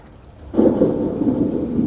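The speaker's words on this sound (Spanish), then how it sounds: "Una tormenta." A thunderstorm rolls in with a deep rumble of thunder that swells suddenly after a quiet start, then holds as a loud, steady roar mixed with rain.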